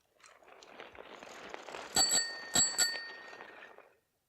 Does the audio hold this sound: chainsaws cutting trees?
no